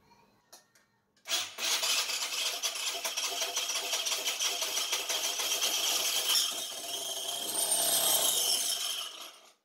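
A small moped engine on a custom budget mini bike, primed with starting fluid, bursts into a loud, close, raspy buzz and runs unevenly for several seconds before cutting out.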